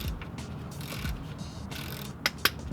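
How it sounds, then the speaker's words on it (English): A socket wrench ratchets against a tight power steering bolt on a lowered BMW E30, giving steady low mechanical clicking and grinding close by, with two sharp metallic clicks near the end. "socket to go ahead and just break this power steering bolt loose"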